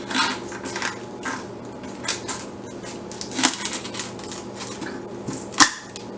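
Poultry scissors crunch and snap through a large turkey's spine in a series of irregular cuts, close up, with a sharp loud crack near the end.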